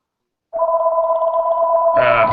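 A telephone rings during a recorded interview call: a steady electronic tone with a bright harmonic edge holds for nearly two seconds, then gives way to a brief burst of noisier sound.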